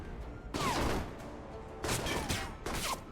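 Sniper gunfire in the video game Alpha Protocol: three sharp, loud shots spaced about a second apart, each with a short crackling tail over steady background game noise.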